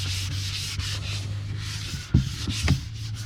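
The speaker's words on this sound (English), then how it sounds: "don't know if you ever used wet dry sandpaper before or not, but I definitely prefer it for this type of work" Wet/dry sandpaper is rubbed by hand during RV repair finish work, making steady rhythmic rasping strokes close by over a low hum, with a couple of sharper knocks near the end.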